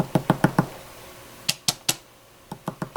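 A rubber stamp is slammed onto paper on a table in sharp, close knocks: a quick run of four, a pause, then three more and a final cluster of three, each crisp and loud with silence between.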